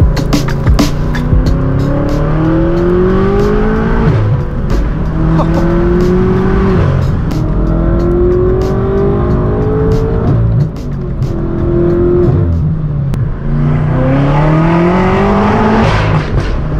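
Tuned manual BMW M6 Gran Coupe making around 750 wheel horsepower, heard from inside, accelerating hard with a loud droning exhaust that climbs through repeated gear pulls, each rise broken by a short dip at the shift.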